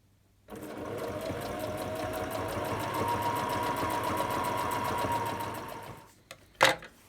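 A sewing machine runs steadily stitching curtain fabric for a self-built van, a fast even mechanical whir lasting several seconds close up, then stopping with a brief clatter at the end.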